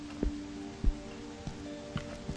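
Rain in the horror video game Song of Horror, a soft steady patter with several distinct drop hits spaced irregularly, faint and low in level over a quiet hum.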